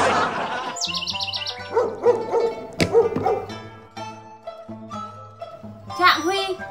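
A dog barks and yelps in short irregular bursts, some near and sharp, mixed with bird chirps and other voices in a comedic folk sketch scene.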